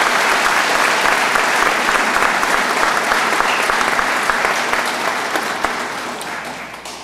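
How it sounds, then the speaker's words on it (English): Sustained applause from an audience at a police academy graduation ceremony, a dense, steady wash of many hands clapping that fades slightly toward the end. "How about a round of applause for Mike and"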